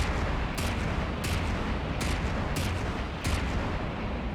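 Gun turret in From The Depths firing about five heavy booming shots at a steady, roughly evenly spaced rhythm, loud over a constant dense rumble of battle noise.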